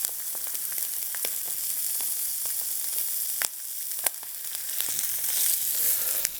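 Partridge sears in a ripping hot pan, giving a steady loud sizzle dotted with sharp spits and crackles and a couple of brief bursts as the meat is pressed, with no talking.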